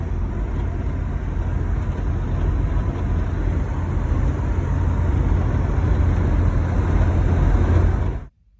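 A Volvo 240 with a manual gearbox and electric overdrive on a test drive: a steady, loud engine and road drone fills the cabin throughout, then cuts off abruptly at the end.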